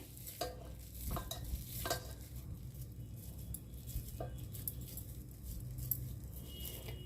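Amaranth and gram flour kofta cook in a pan, with quiet, low sizzling and spatula stirring and scraping broken by a few sharper clicks against the pan.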